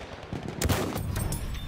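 Gunfire in Battlefield 1 in a desert setting sounds as a quick run of loud, close shots with sharp, punchy cracks, dense and rapid in under two seconds.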